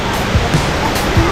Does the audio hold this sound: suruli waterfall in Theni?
yes